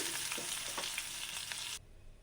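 Spices for a tempering sizzle and crackle steadily in hot oil, then the sizzling cuts off abruptly near the end as the stove is switched off.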